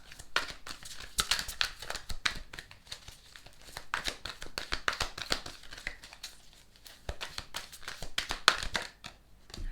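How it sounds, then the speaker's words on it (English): Close, crisp papery riffling and flicking as cards are shuffled repeatedly in quick bursts, with no voices. "with just shuffling this deck for you guys"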